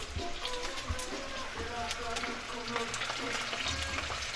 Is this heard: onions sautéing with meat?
yes